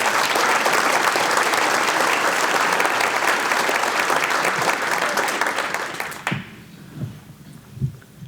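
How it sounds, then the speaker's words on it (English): A luncheon audience at the annual Abe Lincoln Awards of an Indianapolis Kiwanis Club gives a loud, sustained round of applause that stops abruptly, leaving a quiet room with a few soft knocks and rustles. "can we give all the young people that are in the room a round of applause?"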